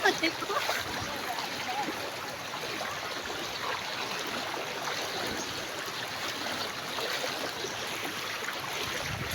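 Floodwater in Mindanao rushes past in a steady, dense roar that holds the same level throughout, with a brief louder surge at the very start.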